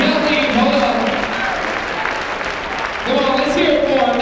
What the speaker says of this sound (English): Everybody, give these people a big round of applause.